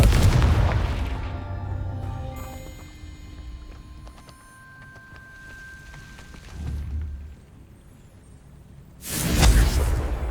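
A Confringo fire spell blasts rocks in Hogwarts Legacy. Its deep booming explosion opens the stretch, followed by a shimmering magical tone and lighter effects, and a second heavy whooshing blast hits near the end. The sounds are loud and close, with no talk over them.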